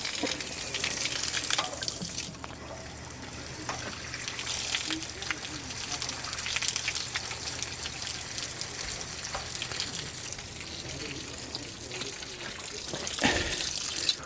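Water gushes steadily from the drain of a Forest River Puma RV hot water tank, a continuous splashing flow heard close up, with a brief louder burst near the end.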